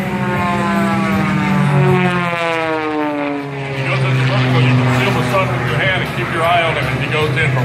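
An aerobatic propeller airplane drones loudly overhead at the Wings Over Wayne 2017 air show, its engine pitch rising and falling as it maneuvers, with an announcer talking throughout.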